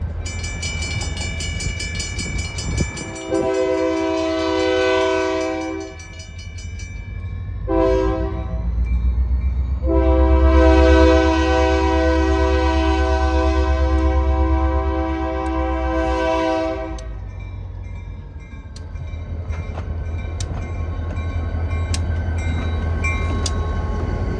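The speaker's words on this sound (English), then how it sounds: "Behind the throttle today is engineer Ted Curfey." An Oregon Eastern Railroad locomotive blasts its horn in several long and short sounds over a heavy, continuous engine rumble as the train rolls past close by.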